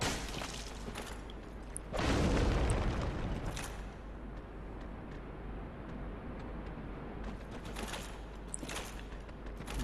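A fire spell bursts in Dark Souls with a loud booming whoosh about two seconds in, then a lingering rumbling roar with small crackles and faint metallic clinks, and no voices.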